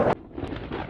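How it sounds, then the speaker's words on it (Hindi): Thunder rumbles during a rainstorm, opening with a brief loud burst that drops into a low, rolling rumble over the rest of the short moment. "अरे देखो बादल गरज रहा है"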